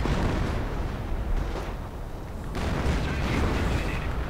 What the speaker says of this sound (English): Artillery flying through the air